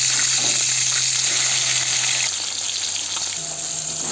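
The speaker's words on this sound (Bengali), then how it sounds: "মাছগুলো ভাজা হয়ে গেছে" Fish fry in hot oil for a home-cooked thin fish curry, giving a loud, constant hissing sizzle close by with a faint low hum underneath and no voices.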